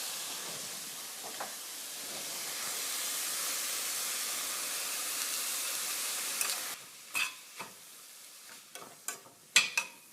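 Frozen peas, white corn and other vegetables saute in a pan, a soft continuous sizzle and hiss that gives way to several sharp clanks and stirring knocks near the end.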